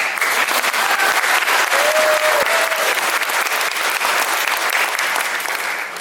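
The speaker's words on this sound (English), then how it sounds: "And big round of applause for Helen." Audience applause for a newcomer introduced on stage at a program in The Villages, a dense steady wash of many clapping hands holding at full strength for six seconds, with faint voices calling out briefly underneath.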